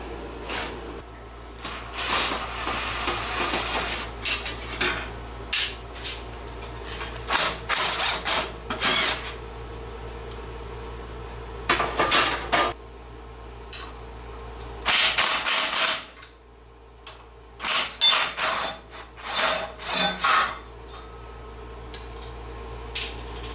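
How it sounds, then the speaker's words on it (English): Wrench ratcheting as loose bearings are tightened to re-tension drive chains, with repeated bursts of rapid clicking separated by short pauses, close and clear, with no talking. "these bearings keep slipping and making the chains loose. So I'm going to tighten that back down"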